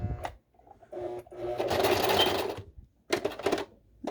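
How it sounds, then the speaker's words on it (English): A sewing machine stitches fabric for a face mask, with short bursts of fast mechanical whirring broken by pauses and a few clicks from handling. "Let's start sewing. Do a little back stitch."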